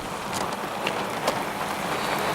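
Heavy rain pours steadily outdoors during repair work on an old Polonez car, a dense, even hiss of drops with a few sharper splashes, continuous and close with no voices.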